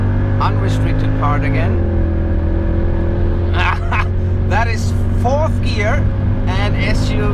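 A Mercedes-AMG pulls hard in fourth gear on an unrestricted stretch of Autobahn, a loud steady engine drone with rising harmonics heard from inside the cabin, while a person talks over it.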